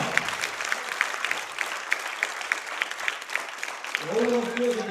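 An indoor crowd at a deadlift championship award ceremony applauds in a steady clatter of clapping, and a voice starts speaking over it near the end.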